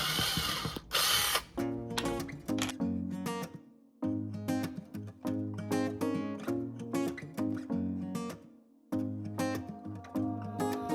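A power drill bores through a wooden Jenga block, giving a loud, steady buzzing whine with rapid ratchety pulses that stops briefly twice before starting again.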